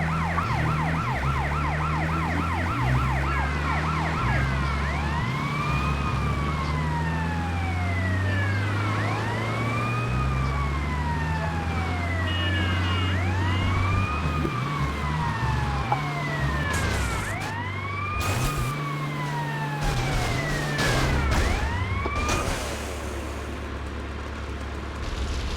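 Ambulance siren in the GTA Vice City video game, a loud wailing tone rising and falling steadily and continuously, with engine and traffic rumble beneath it and no talk.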